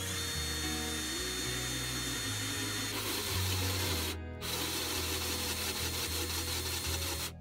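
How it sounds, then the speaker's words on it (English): A power drill bores a hole through the bottom of a bowl for a DIY portable sink, grinding steadily and loudly throughout, with a brief pause near the middle before the whine resumes. "So now we know where to drill our hole for the bowl."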